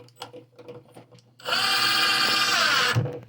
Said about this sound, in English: Let me get my screw gun